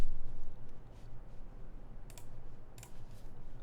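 A computer mouse clicks a few times at a desk, sparse sharp ticks that stand out over a low steady background hum.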